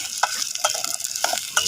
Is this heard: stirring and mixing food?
yes